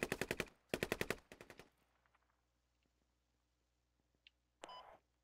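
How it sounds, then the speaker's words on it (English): Bursts of automatic gunfire in the military shooter game Squad: two rapid volleys of shots in quick succession, then near-silence with faint distant pops and a short electronic beep, followed by a brief noisy burst. "Shots coming at the FOB."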